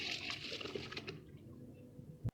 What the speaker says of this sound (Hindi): अब हम इसमें चावलों को ऐड करेंगे।